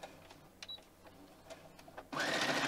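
A sewing machine back stitches a seam: quiet handling noises first, then the motor starts up loudly and runs steadily to the end.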